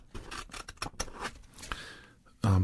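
Sharp steel scissors snip through wrapping paper in a quick run of close, crisp cuts, followed by a louder rustle at the end.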